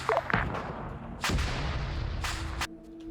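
Rocket pods fire in a military video game. Several heavy, booming launches and blasts rumble close by over a continuous roar, with no talking.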